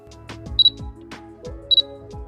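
Camera app autofocus effect mimicking a professional camera: a mechanical shutter-like click, then a pair of short electronic focus-confirm beeps, repeated twice, close and clear with no talking.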